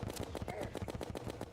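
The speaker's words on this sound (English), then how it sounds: "so I can bombard you with bullets here" Rapid, evenly spaced gunfire from a Terraria weapon spraying bullets, steady and fast, with a voice talking faintly underneath.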